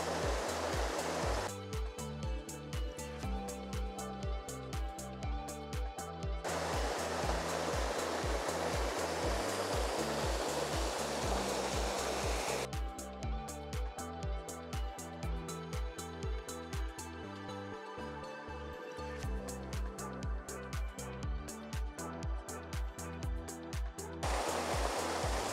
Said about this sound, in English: So this place is just one after another of really impressive waterfalls.